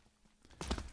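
A single footstep in Counter-Strike on the Cobblestone map, a player dropping down through the drop room; a soft scuff is followed by a louder close thud-and-scrape in the second half.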